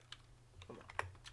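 A few soft, scattered keystrokes on a computer keyboard as a command is typed, faint and close, over a low steady hum.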